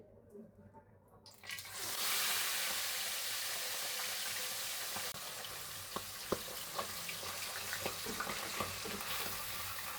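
A large fish head fries in a pan of hot oil, a loud steady sizzle starting after a quiet moment and running throughout, with occasional crackles and pops.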